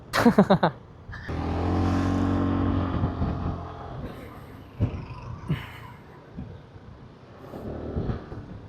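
A BMW motorcycle, a C400GT or F900, on a test ride, with the engine revving and pulling strongly in a steady roar and wind rush, followed by quieter bumps and shifts. There is no talk.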